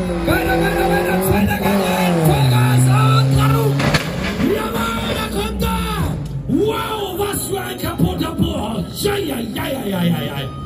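At a monster car stunt show in Euskirchen, a show car roars with revving engine and screeching tires through a jump and landing, loud and close, while an announcer talks and the crowd yells.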